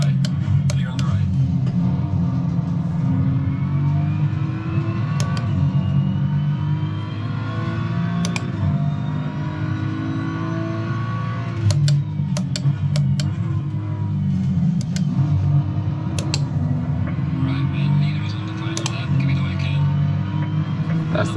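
Race car engine in a racing video game, a continuous loud droning whine that rises and falls with throttle, with sharp clicks and brief bursts scattered through, under a voice calling out.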